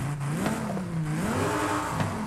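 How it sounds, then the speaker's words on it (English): Stock engine of a GMC Typhoon revving, a steady close engine drone with rising and falling pitch as the throttle is blipped, no talking over it. "okay, you hear your stock engine."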